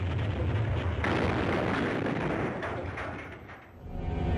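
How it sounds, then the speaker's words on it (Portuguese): Cannon bombardment of Cairo's Al-Azhar mosque by Napoleon's artillery: a continuous loud, rumbling roar of blasts and booming explosions, dense and sustained, with a brief dip near the end before swelling again, no voices. "O canhonaço durou 12 horas."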